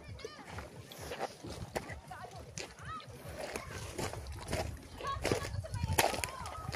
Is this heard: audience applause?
no